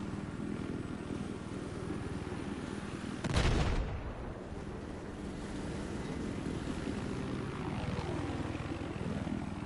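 A video game scout or attack helicopter's rotor and engine drone steadily, with a sudden loud whooshing burst partway through before the droning resumes.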